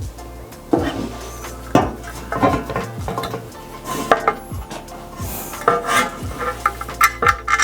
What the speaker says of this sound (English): So I'll be attaching the legs onto the base, and I'll be using these screws.